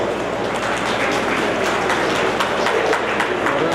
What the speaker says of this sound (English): Request all the members to please give them a round of applause.